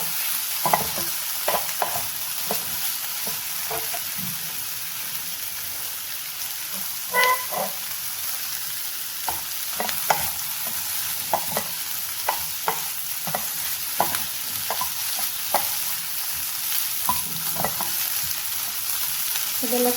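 Chopped ridge gourd fries in a pan, a soft continuous sizzle broken by irregular scraping and clacking as a utensil stirs it every second or two, close by with no talk.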